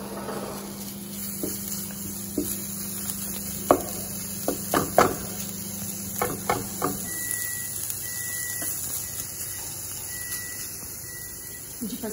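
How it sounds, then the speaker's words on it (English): Mince being broken up as it cooks in a pan for a speedy bolognese, giving irregular scraping and tapping knocks over a steady sizzle, with a faint alarm-like beep recurring near the end. "We're going to break that up as it cooks."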